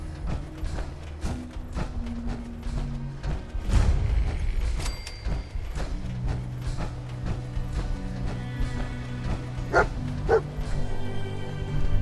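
A dog barking in the Fallout 4 video game, several short barks and yips scattered across the stretch over a bed of game music and low ambient rumble.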